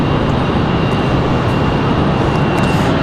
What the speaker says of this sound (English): It's been a long time since we've seen the arrival of a 787 Dreamliner.